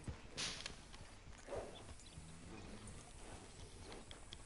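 Horse hooves clop in a slow, uneven walking rhythm in a video game, fairly faint, with a couple of sharper knocks and quiet ambient background.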